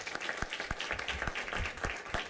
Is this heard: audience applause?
yes